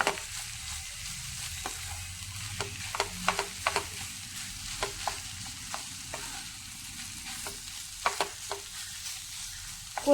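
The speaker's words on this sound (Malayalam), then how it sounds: "മുട്ടയിട്ട് നന്നായിട്ട് എല്ലാം കൂടി ഒന്ന് മിക്സ് ചെയ്ത് കൊടുക്കാം." Egg stirred into a frying mixture in a pan, with a low sizzle under repeated brisk scrapes and taps of a spoon against the pan at an irregular rhythm.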